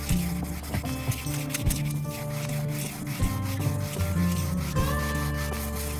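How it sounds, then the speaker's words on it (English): Rhythmic rubbing strokes of wet sanding on a shellac French polish wood finish, quiet and close, with music playing underneath. "More wet sanding."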